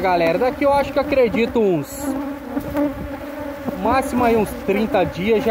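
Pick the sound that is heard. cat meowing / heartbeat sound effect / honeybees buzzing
honeybees buzzing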